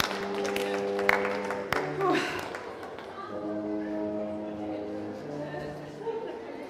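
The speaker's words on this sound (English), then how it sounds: "Let's give a round of applause for T-Rex." Moderate audience applause and clapping with some chuckling break out at a Jurassic Jury final contest show, mixed with background music; a voice can be heard among the crowd noise.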